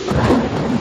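Heavy rain and rumbling thunder during a flood, a dense, loud, continuous roar that lasts under a second.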